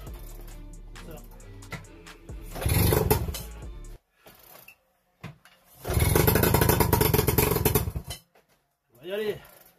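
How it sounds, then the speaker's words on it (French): An MBK 51 moped engine, a Lee Cooper model, coughs and sputters in two rough bursts as someone tries to start it, with short pauses and brief speech between attempts. "On va essayer de la démarrer."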